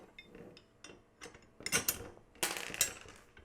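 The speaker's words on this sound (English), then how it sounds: "So we're going to put the bolt in." A metal bolt is fitted into an AR500 steel spring popper target, making a run of clinks, scrapes and sharp metallic taps, close and uneven, growing louder toward the end.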